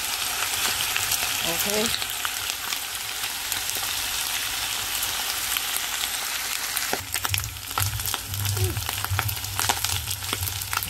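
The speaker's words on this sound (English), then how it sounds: "So now I'm frying it with corn oil now, and I'm just gonna let it get brown on each side." Garlic pigtails fry in corn oil with a loud, steady sizzle and scattered pops that grow busier partway through. A brief word is spoken over it.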